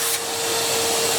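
A HYVI 3014 wet/dry shop vacuum, 30 litre and 1.4 kW, runs with a steady, loud, close roar and a thin whine on top, without change over a short stretch and with no voices.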